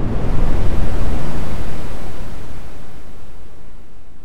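Synthesized ocean waves designed in the Vital synth, a loud, broad wash of noise that swells at the start and slowly recedes and thins over a few seconds, with no other sounds present.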